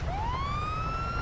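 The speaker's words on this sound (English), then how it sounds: "Siren is going to be R." A police car siren in the video game GTA 5 (FiveM role play) winds up in a single rising wail that holds steady, clear and alone over a low engine rumble.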